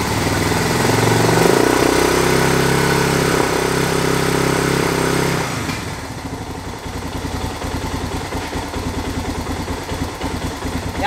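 A Suzuki DR650 motorcycle engine, a garage find just restarted with its air box off, runs loud and close, first as a dense steady drone, then dropping to a rougher, lumpy idle that keeps going alone.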